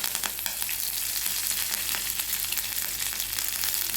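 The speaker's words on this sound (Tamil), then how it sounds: "எண்ணெய் ஊற்றி கடுகு உளுந்தம்பருப்பு போட்டு தாளிங்க" Mustard seeds and urad dal sizzle and pop in hot oil as a tempering for bottle gourd chutney, a steady close-up crackle with scattered sharp spits and no talking.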